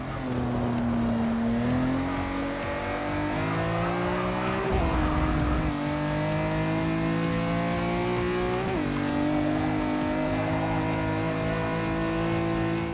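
A 2005 BMW M3 racing in Forza Motorsport 6, its engine holding a loud, steady drone with rising pitch through the gears and brief dips at shifts, continuous throughout without speech.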